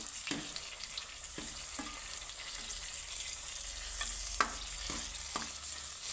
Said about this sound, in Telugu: పండు మిర్చి అయితే దూరగా వేగినాయి